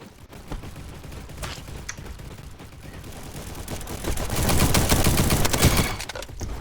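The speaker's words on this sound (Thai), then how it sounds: "ปืนแรงแรงจังเลยนะ" Gunfire crackles in an online shooting game, with scattered shots giving way to a louder sustained burst of rapid firing in the middle before it thins out again.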